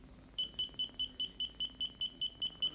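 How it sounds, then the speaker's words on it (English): A small student-built electronic distance sensor gives a steady series of high-pitched beeps, about eleven in under three seconds, evenly spaced and alone in a quiet room. "Measuring under 1 foot will yield a higher pitched beep"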